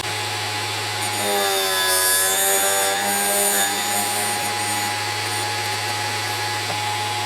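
A Vevor 13B drill grinder whirs steadily while sharpening the tip of a drill bit. A strong motor hum runs throughout, and a rising and falling grinding tone swells briefly in the middle as metal meets the wheel.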